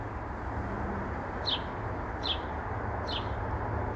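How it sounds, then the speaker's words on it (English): Three short, bright bird chirps sound at even intervals outdoors near a porch, faint against a steady background hum. "Birds is chirping."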